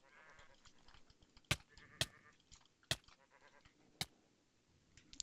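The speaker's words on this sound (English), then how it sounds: "That's just a tainted sheep." Tainted sheep in a modded Minecraft survival game bleat faintly in a few short, wavering calls, along with several sharp, loud clicks in an otherwise quiet scene.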